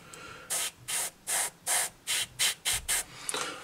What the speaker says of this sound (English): I'm just going to hit my stowage first, give them a light dusting. So I'm spraying that from quite a way away.